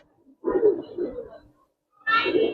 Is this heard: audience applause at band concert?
no